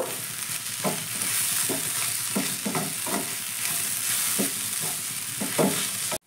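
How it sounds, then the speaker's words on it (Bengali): A spoon scrapes and stirs fried bhujia with potato and carrot in a sizzling pan, giving regular rhythmic strokes over a constant frying hiss, close and clear with no talking. "এবার ভুজিয়াটা ভাজার পর আমি আলু আর গাজরটার সঙ্গে ভালো করে মিশিয়ে নেব।"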